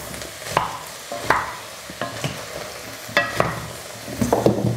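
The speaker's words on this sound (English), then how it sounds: "Now again, let's give this a quick mix around." Venison stew stirred in a pot, with a series of close, sharp spoon scrapes and clanks against the pot at an uneven rhythm over a soft steady sizzle.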